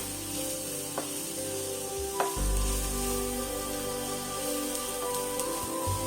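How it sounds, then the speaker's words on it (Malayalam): Onions frying in hot oil with curry leaves and fennel seeds for a quail egg masala curry, giving a steady close sizzle with a brief louder crackle as something is stirred or added. "അതിലേക്ക് നമുക്ക് കറിവേപ്പിലയും കുറച്ച് പെരിഞ്ചീരകവും ഇട്ട് കൊടുക്കാം കേട്ടോ"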